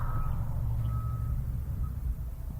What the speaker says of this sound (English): The sound of crushing and beeping emanating from the work site on the edge of town